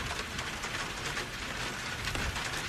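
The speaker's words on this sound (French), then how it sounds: "Je vous entends très mal à cause de la pluie" Steady heavy rain pouring down, a dense continuous hiss with faint patter throughout and no voices.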